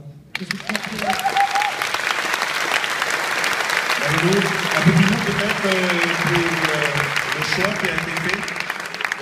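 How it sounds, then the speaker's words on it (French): An audience applauds a winning film pitch at the FIFO 2014 festival in Papeete, steady clapping throughout while someone speaks over it at length. "Applaudissons peut"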